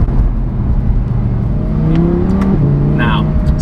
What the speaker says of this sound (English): there is a big grizzly V10 in this thing, so it is hard to escape the fact that it sounds great